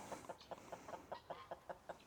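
Soft, rhythmic clucking from chickens nearby, a quick even series of short calls repeating about five times a second, quiet and without talk.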